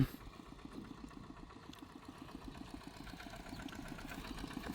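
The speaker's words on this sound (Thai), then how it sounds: "รถไถสองคัน" Two tractors plowing a rice paddy keep a low, steady mid-pitched engine drone with a rapid chugging pulse, faint and somewhat distant throughout with no talk.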